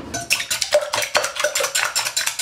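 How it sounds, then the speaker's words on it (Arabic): Eggs go into the metal bowl of a stand mixer while making a large chocolate cake, giving a rapid series of clinking, knocking and wet sloshing sounds, close and moderately loud with no talking. "لهذا راح استخدم العجان"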